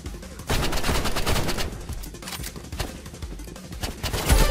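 Sniper gunshots in the Roblox game Rivals, rapid loud game gunfire in dense bursts, with a heavier boom near the end.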